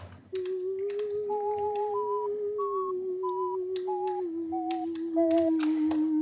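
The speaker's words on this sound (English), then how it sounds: "It's just like a sine wave with tremolo. So it sounds like a whistle" A pure, whistle-like sine-wave synth with tremolo plays a short stepped melody over a sustained lower tone in the second chorus of an electronic track, loud and steady, with light clicky percussion around it.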